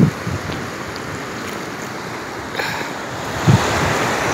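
Water pouring over the Dorena Lake Dam spillway makes a continuous, loud broadband roar, steady throughout with a slight swell near the end and wind buffeting the microphone.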